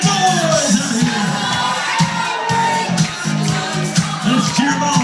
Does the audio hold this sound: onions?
no